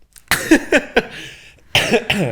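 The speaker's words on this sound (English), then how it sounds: "Sorry, I'm coughing." A burst of three quick coughs, a short pause, then two more harsh coughs, close and loud.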